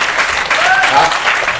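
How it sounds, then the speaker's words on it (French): Loud audience applause at a student talent awards event, a dense wash of clapping heard up close with a faint voice cutting through briefly. "Applaudissez si vous êtes d'accord avec moi."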